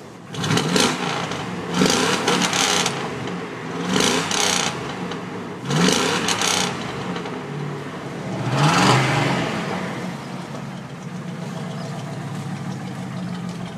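A 2000 Dodge Ram 1500 Sport 4x4 pickup engine with dual exhaust runs steadily, rising in a few loud bursts of revving before settling back to an even rumble.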